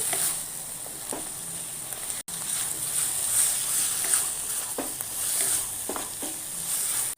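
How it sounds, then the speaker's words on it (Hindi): Bottle gourd halwa with khoya fries and is stirred in a pan, giving a steady sizzle under repeated scraping strokes of a spoon at an even pace, heard close with no talk. "अब मैं इसे अच्छे से भून लूँगी।"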